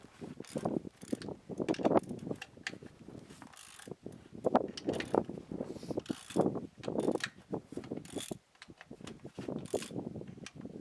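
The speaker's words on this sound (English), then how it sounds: "next we're going to take the cover off the rim and crack the lug nuts" A ratchet wrench loosens the lug nuts on a Toyota Tacoma wheel, producing close, repeated bursts of clicking and grinding with short pauses between strokes.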